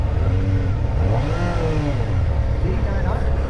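A Kawasaki ZX-4RR motorcycle with a quick shifter revs hard while accelerating, its loud, close engine note rising and falling through several shifts, and a voice talks over it.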